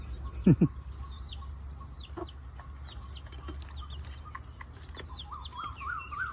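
A flock of chickens eating scattered feed from a tray outside in wet weather clucks softly and intermittently, with one sharper call early and a low steady background hum.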